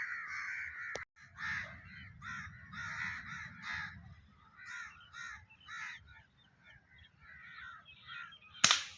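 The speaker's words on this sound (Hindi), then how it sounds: "ये कौवे बड़ा डिस्टर्ब कर रहे हैं" Several crows caw repeatedly outdoors during a dove hunt, harsh rhythmic calls in bursts at mid distance, with a sharp airgun-like snap near the start and another loud crack at the end.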